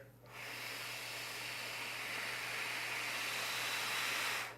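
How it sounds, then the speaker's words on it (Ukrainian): One long, steady breath during a breathing exercise, a continuous airy hiss that starts abruptly, holds for about four seconds and then cuts off, close to the microphone with no talk. "Видих. Вдих. Видих."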